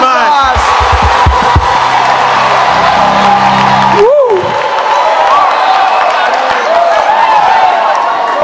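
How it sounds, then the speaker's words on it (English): A church congregation claps and cheers at a revival meeting, a dense crowd of applause, whoops and shouts blended with voices throughout. "Somebody clap your hands to Jesus."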